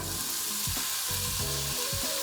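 Ground burger meat and onions fry steadily in a deep sauté pan over medium-high heat, making a loud continuous sizzle with a few brief stirring scrapes, with no voices.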